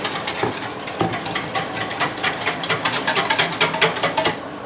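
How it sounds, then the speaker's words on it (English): A whisk beats milk in a bowl with quick, rhythmic clinking taps that speed up toward the end, close and fairly loud, with no talk. "put about half the milk into that bowl, don't put that back on the heat, and give it a really good whisk"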